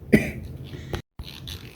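A man working outdoors on an old trailer's wiring in picked-up wind coughs sharply once near the start, followed by a softer throat noise, a brief silence, then faint rustling.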